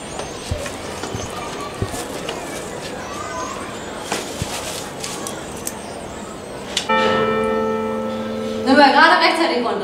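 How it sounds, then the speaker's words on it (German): Church bells in Novigrad, Croatia start ringing near the end, rising to a full, sustained peal after a stretch of people talking and scattered clicks and knocks. "Wir müssen noch warten, bis die Glocken läuten."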